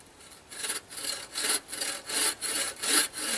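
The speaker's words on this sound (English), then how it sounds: "make a simple cut right across the top. Really just a starting cut, going down about maybe ½ an inch on this." A hand saw cuts a starting notch across the top of a wooden board for a raised bed, making about seven rhythmic rasping strokes, close and steady, with no talking.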